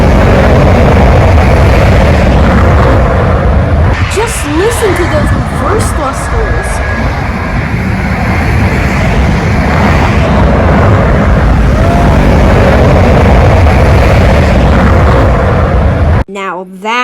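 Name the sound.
airliner reverse thrusters at Suvarnabhumi Airport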